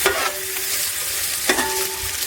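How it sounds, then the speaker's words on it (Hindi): A medium-sized onion, sliced, fries in ghee in a pan, giving a loud, steady sizzle with faint stirring scrapes and no talk. "घी में हम इसको बनाएंगे। आधा कप एक मीडियम साइज का प्याज लेंगे, उसको स्लाइस में कर लेंगे और इसमें डाल देंगे।"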